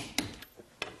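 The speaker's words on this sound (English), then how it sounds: "until we get a click from the torque wrench" Torque wrench clicking as wheel lug nuts are tightened to spec: two sharp, bright clicks about two-thirds of a second apart, close up, with softer metallic rubbing between them and no talking.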